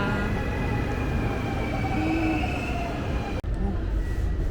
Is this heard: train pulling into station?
yes